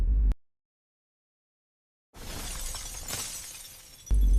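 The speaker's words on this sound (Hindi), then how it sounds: "आईना टूट गया" After a stretch of total silence, a mirror shatters in a sudden crash that trails into scattered tinkling and crackling, loud and close, before a deep rumble returns.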